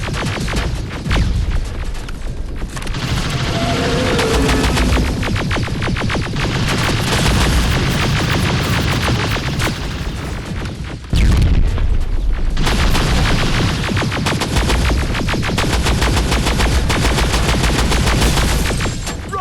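Dense gunfire in the Terminator: Resistance video game, with rapid automatic bursts and heavy booms that run loud and almost nonstop throughout.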